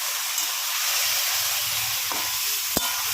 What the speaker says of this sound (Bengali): এবারটা ভালো করে নাড়িয়ে নেব।